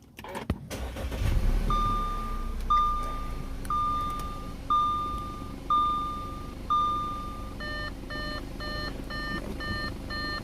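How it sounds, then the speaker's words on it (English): A car being started after a home repair: a brief crank and rumble, then a steady idle beneath a repeating electronic warning chime that beeps in even pulses and quickens near the end. "Let's go start the car."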